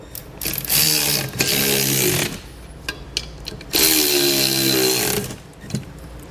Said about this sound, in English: Come back with a 14mm socket and snug them down.